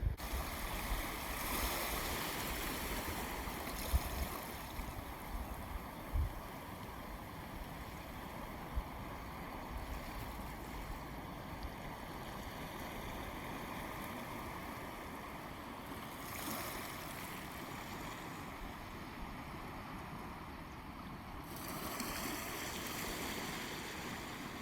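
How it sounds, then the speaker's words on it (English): On a beach, the tide rips along the shore as a steady, faint rushing of moving water, with soft surges and occasional bumps, continuing evenly for nearly half a minute. "As I thought, yeah, it's just the tide ripping through."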